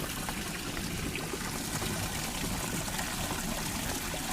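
Clear spring water flows steadily from a mountain source in the forest of Mount Makiling, a continuous close rushing stream with no voices.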